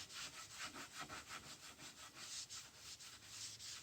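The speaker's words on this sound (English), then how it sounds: "You might be able to hear that the wood is rough from the paint raising the grain" A rag rubs stain into rough, paint-raised wood grain with steady back-and-forth strokes, giving a near, rhythmic scratchy swish of roughly four strokes a second with no voices.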